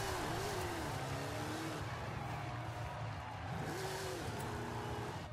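Dodge Charger R/T engine in Forza Horizon 5, rising and falling revs in repeated sweeps under a steady mechanical drone, fairly quiet throughout.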